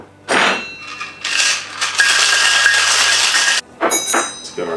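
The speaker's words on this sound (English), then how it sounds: "Let's shake it up." A mojito in a cocktail shaker shaken hard with ice, a loud continuous rattle and clatter lasting about three seconds, then a brief pause and a few shorter shakes.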